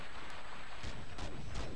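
Gunfire in the video game The Matrix: Path of Neo comes as three or four heavy, muffled booming shots in quick succession over a dense, constant game background.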